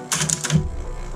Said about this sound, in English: so, oh man, I want to keep typing. Margin release.